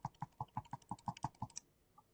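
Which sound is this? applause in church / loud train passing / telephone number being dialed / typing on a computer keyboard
typing on a computer keyboard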